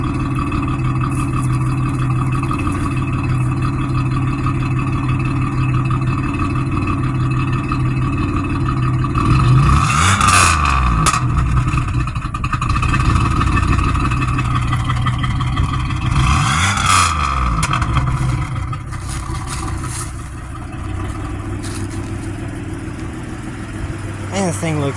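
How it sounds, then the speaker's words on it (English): A Pontiac Grand Prix GXP with a new radiator, started for the first time after sitting abandoned, idles steadily and then revs up in two strong, rising bursts before settling back to idle, with voices nearby. "Hey, give me a rev."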